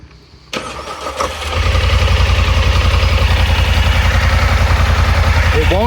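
Polaris Sportsman Highlifter 1000 ATV cranking over and catching, then settling into a loud, close, rhythmic idle that thumps evenly at low pitch while the machine is shifted into 4-wheel drive.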